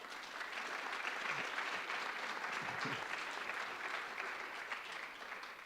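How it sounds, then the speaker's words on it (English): Steady applause from an audience, a continuous patter of clapping filling the room for several seconds without pause. "So big round of applause there."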